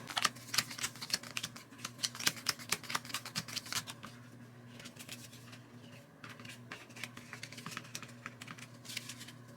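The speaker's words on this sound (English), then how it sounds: "Then shuffle the opportunity cards." Opportunity cards from the Back to the Future: Back in Time board game are shuffled up close in rapid flurries of crisp clicking, easing off briefly midway before resuming. No one speaks.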